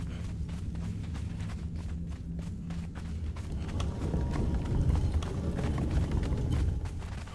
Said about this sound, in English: Falling back to the horse.